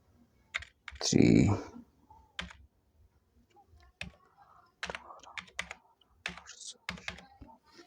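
Someone types a phone number on a computer keyboard, producing scattered close key clicks in short bursts with pauses, plus one louder thump early on.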